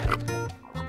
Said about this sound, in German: Das Schwein auf dem Hof macht.